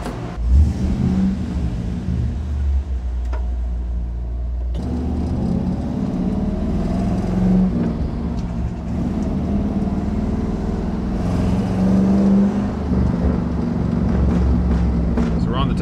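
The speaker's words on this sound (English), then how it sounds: "That's a pretty good sounder though. It's not too loud, it's not too quiet" A 1963 Chevrolet Impala with a Flowmaster exhaust and an overheating history cruises on a test drive, its steady mid-pitched engine drone and occasional revving swells running throughout at moderate loudness, heard from inside the car.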